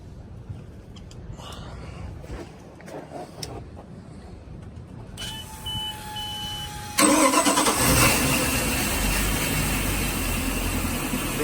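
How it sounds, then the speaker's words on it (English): A Volvo Penta 5.7GI marine engine cranks with a few beeps, then catches and settles into a loud, steady, close idle after repair work on its cap, rotor, spark plugs and fuel regulator. "Engine started, battery charge is in, and we're good to go."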